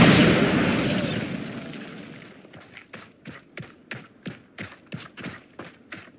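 A Bombarda spell explodes in Hogwarts Legacy, a loud broad blast that decays over about two seconds, followed by a steady run of about ten regular, evenly spaced impact hits.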